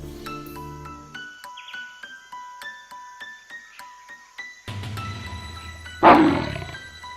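A lion roars loudly and close in one deep, rough burst near the end, following soft tinkling chime notes and a low rumble in a story soundtrack.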